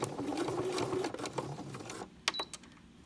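A sewing machine runs steadily, stitching fabric for a placemat, coaster and napkin-holder set, then stops, followed by a few soft clicks and handling taps.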